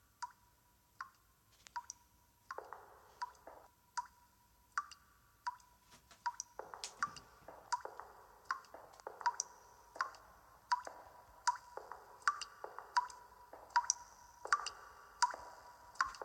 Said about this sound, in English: I guess I'll just have to walk towards the dripping sound.